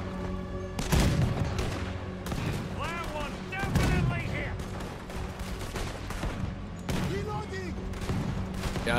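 Ship cannon fire in Red Dead Redemption 2 booms out in several heavy blasts spaced a few seconds apart, with game music and sound effects running throughout and people talking over the shots.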